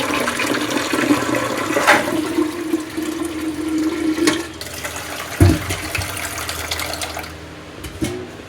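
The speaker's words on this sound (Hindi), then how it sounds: "पानी डाल देते हैं।" Water pouring steadily into a cooking pot for tea, a continuous splashing stream that stops abruptly around the middle, followed by a few clanks and quieter handling sounds.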